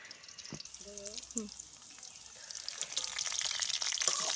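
A tempering of bay leaf, five-spice and cumin crackles in hot oil for mixed vegetables. A short voiced sound comes early, then the sizzle swells louder and steadier toward the end.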